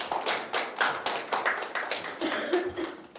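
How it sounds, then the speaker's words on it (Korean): A small audience at a Seoul youth parent support policy forum claps briefly, a few people producing a loose, fairly soft run of separate claps at close range. "큰 박수로 부탁드리겠습니다."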